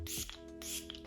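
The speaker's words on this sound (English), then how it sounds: "to finish this look off, I need some setting spray, so I'm going to take my favorite at the moment, which is the Milk Makeup Hydro Grip Set and Refresh Spray" Milk Makeup Hydro Grip Set and Refresh setting spray hisses out in two quick, close bursts from a pump mist bottle, faint and soft against a low background hum.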